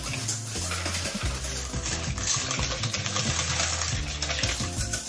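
Whisk scraping and clinking rhythmically against a bowl while folding whipped cream into a mascarpone cheese mixture, a steady close repeating metallic stir with no talking.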